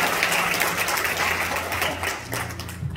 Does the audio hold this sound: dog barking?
no